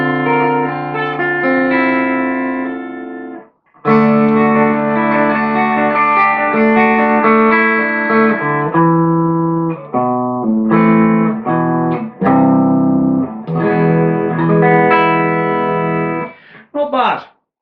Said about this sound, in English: It's got a little bit of distortion with it.